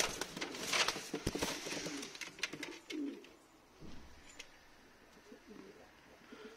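Soft, low coos from young champagne pigeons repeat close by, mixed with rustling and fluttering noises near the start.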